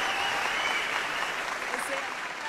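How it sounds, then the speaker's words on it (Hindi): Audience applause at a live event, dense continuous clapping at moderate volume that holds steady throughout. "ये तालियों की जो गूंज थी,"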